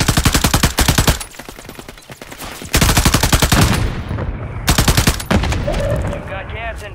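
Bursts of rapid automatic gunfire in an online battle royale match, loud and close, with sustained volleys separated by brief pauses and a quieter stretch between them.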